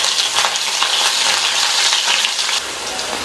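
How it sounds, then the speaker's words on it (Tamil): Crushed garlic and fennel seeds sautéing in hot oil, a dense crackling sizzle with bursts of spattering, close and continuous before easing slightly near the end, with no talking. "இந்த பூண்டையும் லைட்டா வதக்கி விட்டுக்கலாம்"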